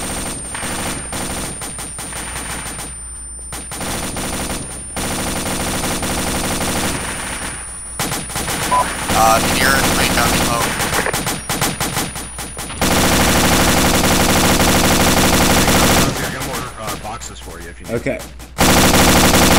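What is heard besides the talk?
machine gun fire in a military video game (Arma, Gothic Line)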